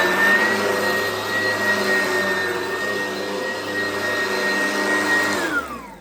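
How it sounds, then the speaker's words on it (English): A vacuum cleaner runs steadily while a room is vacuumed, a loud continuous motor whine with a constant high tone that holds throughout before dropping slightly at the very end. "Finish vacuuming this room."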